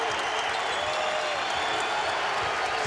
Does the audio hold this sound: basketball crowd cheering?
yes